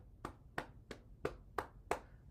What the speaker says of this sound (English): Open up and stimulate your heart by clapping